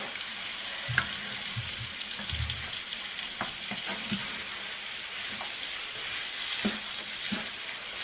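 Eggs sizzle and crackle steadily in a large, overly hot frying pan, a broad continuous hiss punctuated by occasional scrapes and clinks of a utensil against the pan.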